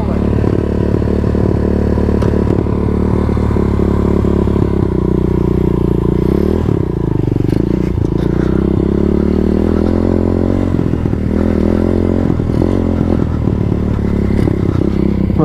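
A CRZ 125 dirt bike engine runs loud and close, idling high with repeated revs rising and falling, along with some clatter and scraping.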